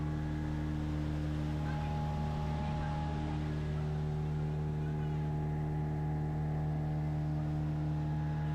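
A speedboat on the reservoir at Massanjore Dam drones with a steady low engine hum and a faint hiss of water, holding constant and close throughout with no talk.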